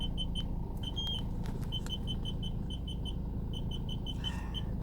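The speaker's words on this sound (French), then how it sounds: "à 40 cm, il se met à biper" A rapid series of short, high-pitched electronic beeps repeats steadily over a low engine hum, a Mazda RX-8 parking sensor warning close at hand as the car reverses within 40 cm of an obstacle.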